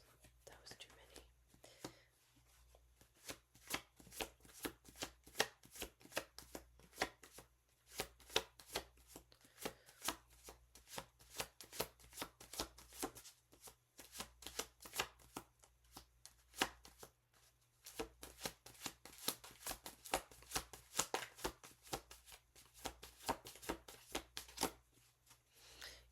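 Tarot cards shuffled continuously in dense, rapid flicking bursts, close and quiet over a faint background hum, with short pauses between rounds of shuffling.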